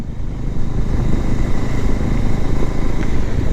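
A motorcycle engine runs steadily and loudly up close while the bike is ridden through downshifts and upshifts, with a continuous throbbing drone and no voices.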